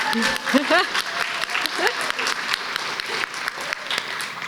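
Audience at an MFA commencement ceremony applauds, a close, steady patter of many hands clapping under a speaker's voice that rises briefly at the start and again midway.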